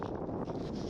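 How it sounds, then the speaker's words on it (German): Wind buffets across a snowy mountain peak, a steady low rushing roar against the microphone with no talk. "And actually the minimal wind."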